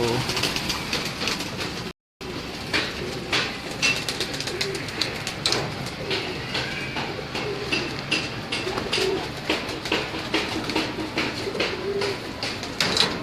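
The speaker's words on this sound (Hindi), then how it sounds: "सीब भाई के टैडी कबूतरों का शो करवा रहे है" Teddy pigeons coo and flutter in a busy background of bird sounds, with rustling and occasional sharp clicks, steady throughout.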